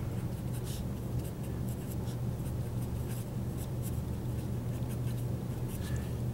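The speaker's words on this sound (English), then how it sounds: "that's what I'm going to write here, your first bullet" A pen or pencil writes on paper in short scratchy strokes, soft and close, over a steady low hum.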